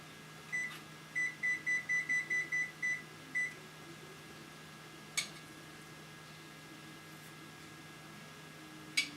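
A kitchen timer set while cooking chicken beeps in a quick run of about ten short, even tones, followed later by two single isolated beeps, over a low steady background hum.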